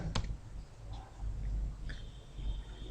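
A single sharp Enter key click on a computer keyboard during a network operating system installation in a lab, one crisp tap near the start over a steady faint room hum.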